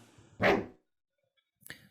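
A dog in the video game Lovro i Vesna gives one clear, close bark, followed by silence and a shorter, fainter second yelp.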